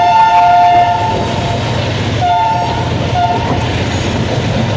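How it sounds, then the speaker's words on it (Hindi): An AG 30 Blue Tiger diesel locomotive sounds its distinctive horn in Pakistan, a loud close two-tone blast followed by shorter repeated toots over the steady rumble of the passing train. "AG 30 का मखसूस हॉर्न की आवाज़ से ही सब पहचान जाते हैं कि AG 30 या ब्लू टाइगर"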